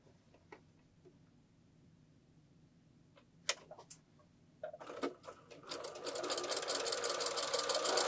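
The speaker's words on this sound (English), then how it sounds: "Now let's go over to the machine and stitch those down." Sewing machine stitching a quilt block with a quarter-inch seam, starting with scattered ticks and clicks, then building into a steady, fast mechanical stitching run that grows louder toward the end.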